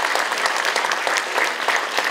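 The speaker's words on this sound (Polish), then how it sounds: "Wielkie brawa." Audience applause at a Polish concert of popular melodies, a warm, steady burst of many hands clapping close by, continuous throughout.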